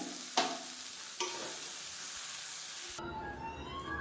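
Tomato, tamarind and roasted gram sizzle and hiss as they are stir-fried in a pan for a millet idli chutney, with a couple of sharp scrape clicks early on before the frying noise drops away near the end.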